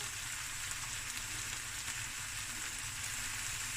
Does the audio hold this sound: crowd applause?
no